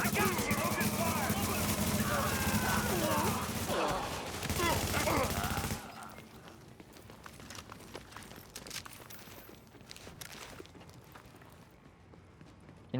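Gunfire in a video game firefight, a dense, continuous fusillade of rapid shots for several seconds, then thinner, scattered firing further off, with voices shouting over it.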